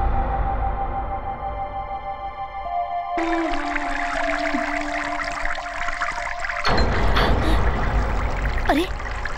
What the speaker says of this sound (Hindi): ये पानी की आवाज कैसी? नल किसने खुला छोड़ दिया?